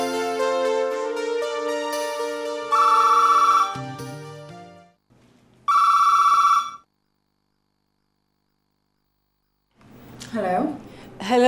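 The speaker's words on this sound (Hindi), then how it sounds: "पिंकी के बारे में मालूम करने के लिए फ़ोन किया था मैंने।" An incoming call rings on a phone: a melodic electronic ringtone plays in loud repeated bursts with pauses between, then fades to silence before a voice begins speaking at the end.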